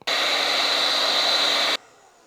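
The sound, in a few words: heat gun blowing on windscreen weather stripping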